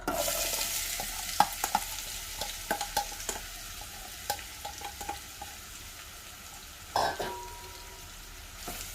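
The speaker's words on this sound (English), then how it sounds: "the oil is nice and hot now, so I'm going to put my onions in" Onions dropped into hot oil sizzle steadily in a pan, with scattered stirring clatters and a louder burst near the end, close and fairly quiet with no talk.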